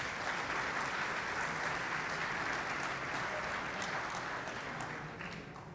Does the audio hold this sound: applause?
yes